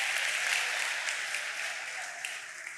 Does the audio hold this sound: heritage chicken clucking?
no